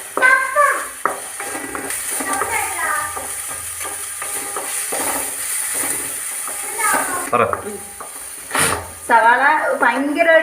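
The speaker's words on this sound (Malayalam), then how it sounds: "എന്നിട്ട് നല്ലോണം വഴറ്റി കൊടുക്കുക." Onions sautéing in a pan hiss and sizzle steadily while being stirred, with occasional spoon scrapes and clinks against the pan, under intermittent voices including a child's.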